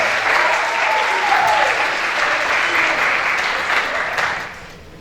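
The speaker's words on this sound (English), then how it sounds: "give the student gratitude applause" An audience claps in gratitude for a student at a school ceremony, broad sustained applause that fills the room and then tapers off near the end, with faint voices underneath.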